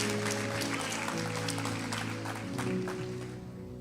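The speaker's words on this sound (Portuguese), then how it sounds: "Levanta a tua mão para o céu e aplaude a Ele." A church congregation claps together during an evening worship service, a steady, dense wash of applause that carries on under sustained music and fades slightly toward the end.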